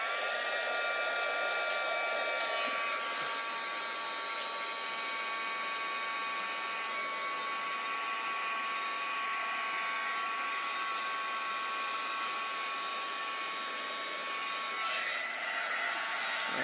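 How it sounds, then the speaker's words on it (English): Heat gun blowing continuously at steady volume for the whole stretch, a broadband airy roar with a faint whine layered on top, close by, no talking. "Get my heat gun back out."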